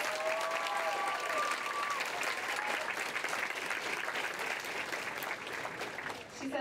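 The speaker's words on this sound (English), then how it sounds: "I think we can give Jen a much more robust and less polite applause." A conference audience gives sustained applause after a keynote, a steady, fairly distant wash of many hands clapping with a few faint voices mixed in, tapering slightly near the end.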